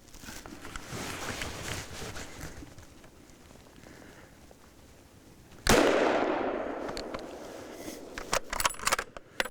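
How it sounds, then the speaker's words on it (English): A hunting rifle fires once at a wild boar in a thicket during a hunt in Hungary, a single sharp loud report cutting through soft outdoor ambience and trailing off, followed by faint rustling and small clicks. "And makes a good shot at the Keiler."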